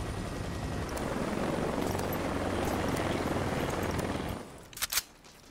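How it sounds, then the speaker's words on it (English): A helicopter flies in Call of Duty Black Ops Cold War multiplayer, a loud, dense rotor roar holding steady for about four seconds before cutting off, followed by a couple of sharp clicks. "Oh, we flying in the chopper today."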